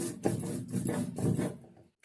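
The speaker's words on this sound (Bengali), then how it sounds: "পোস্ত লঙ্কাটা বেটে নেব" Poppy seeds and chili are ground into a paste with a few close, rhythmic scraping and grinding strokes that then fade to silence.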